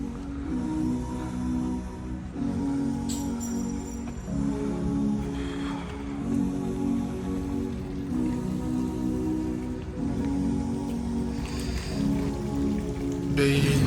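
Water flowing in Malaga, Andalusia, Spain, a steady, continuous rushing splash like heavy rain on a surface, fairly close and even in level throughout.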